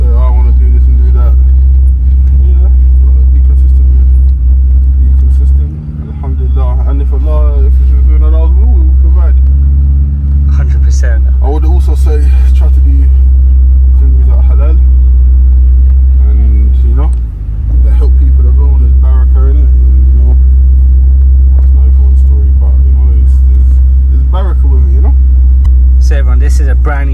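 A 2024 Lamborghini Urus Performante with an Akrapovic exhaust drives in Corsa mode, its engine a loud, steady low drone from inside the cabin, briefly dipping a few times, while a person talks over it continuously.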